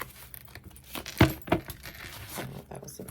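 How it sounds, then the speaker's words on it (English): Tarot cards being shuffled by hand in a quick, messy riffle, with soft papery rustles and a few sharper slaps and flutters of cards, fairly close and quiet, no talking over it. "Oh, that was an ugly shuffle."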